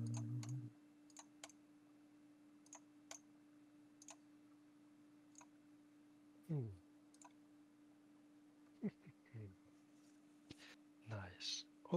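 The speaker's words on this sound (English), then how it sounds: "Right click on each card and select flip." Computer mouse clicks while right-clicking cards to flip them in the digital wargame Brotherhood & Unity: a dozen or so crisp, quiet clicks spaced irregularly, with soft talk between them.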